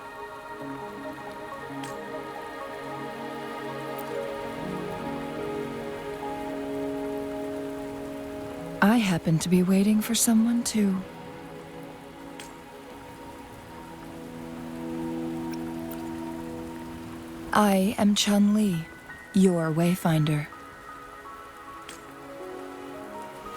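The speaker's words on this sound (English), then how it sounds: "Are you trapped here by the rain?" Steady rainfall patters in the video game Wuthering Waves, a soft continuous wash under sustained musical tones, with two bursts of spoken dialogue from a character voice partway through.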